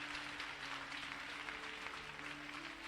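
Applause from an audience at a French-language religious teaching, a steady dense wash of clapping filling the whole stretch at moderate level with no pauses.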